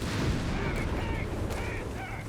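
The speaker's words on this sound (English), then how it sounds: "Meanwhile, MD-34 is getting hit there by Oziligath's mortar." Mortar fire and blasts in a Company of Heroes 3 battle, a dense stretch of booming impacts and crackling gunfire under a constant battlefield din, loud and close.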